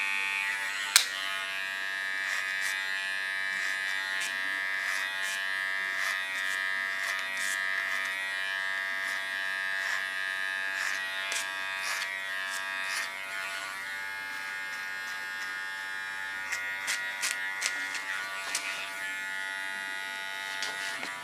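Hair clippers set to a 3mm blade buzz steadily while trimming a short pixie neckline, a close, continuous electric drone broken by small clicks and brief shifts in pitch as the blade moves across the skin.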